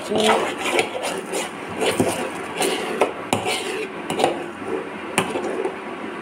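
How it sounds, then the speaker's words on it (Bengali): Spoon scraping and clinking against a pot while stirring jaggery payesh with raisins, irregular knocks and scrapes repeating throughout at close range. "নাড়তে হবে, নাহলে এখন তলা লেগে যাবে"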